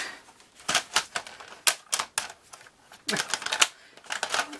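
Paper being cut for a mini file folder, a close series of crisp snipping bursts in uneven clusters with short pauses between them.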